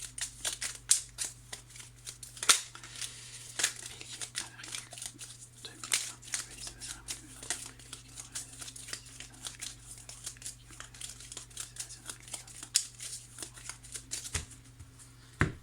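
Tarot cards are shuffled and cut, giving a close, continuous run of riffling, slapping and crinkling card sounds over a low steady hum.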